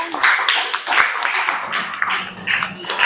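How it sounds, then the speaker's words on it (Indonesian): A classroom audience claps for a student group after their presentation. The clapping is close and uneven and comes in bursts with small gaps, with a few sharp individual taps. "Tepuk tangan buat kelompok 1."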